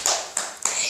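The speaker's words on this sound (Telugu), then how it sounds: "claps for Uday Krishna" A classroom of children claps for a student in a short burst of several quick claps, bright and close.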